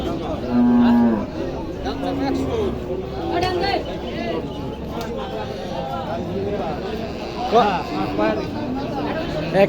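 A deep cow moo sounds early on, with more lowing amid a crowd chattering and people talking close by, at a busy cattle market.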